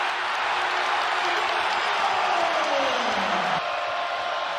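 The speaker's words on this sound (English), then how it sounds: "Can't quiet the crowd." Arena crowd roaring steadily at a Maryland versus Michigan men's college basketball game, a dense loud wash of cheering and applause held throughout, with a descending whistle-like tone sweeping through and cutting off near the end.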